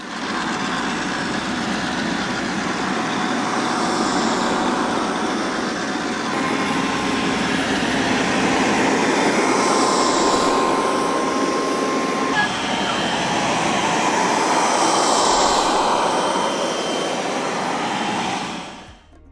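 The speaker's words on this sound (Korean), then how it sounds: "가장 흡입력이 낮은 모드로 해도 흡입하는 소리와 함께 모터 소리까지 더해져서 꽤나 크게 들리기 때문에" A THINK AIR RV50 robot vacuum cleaner running on its lowest suction mode, a steady loud whirring motor hum with airy suction hiss, continuous and unchanging throughout, nearby with no speech.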